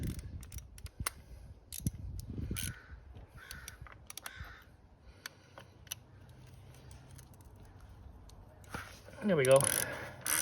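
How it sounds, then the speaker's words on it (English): A longer wrench is worked against a tight bolt, with scattered clicks and a creaking strain before a louder burst near the end as the bolt gives way; someone speaks briefly. "Let me use my longer wrench."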